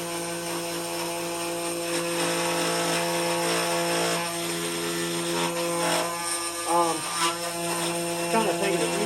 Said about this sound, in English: While the CNC makes a god-awful noise in the background.